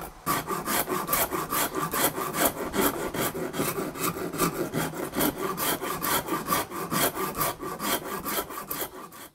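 A Shinto rasp cuts a belly carve into a custom guitar body, giving close, even back-and-forth scraping strokes, roughly two per second, that keep going without pause or talk.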